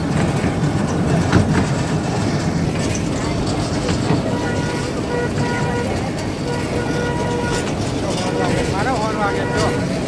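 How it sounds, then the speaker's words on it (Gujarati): A diesel-engine passenger train runs along the rails with a steady loud rumble and rhythmic clickety-clack of the wheels, heard from on board with people talking over it. "ડીઝલ એન્જિન છે."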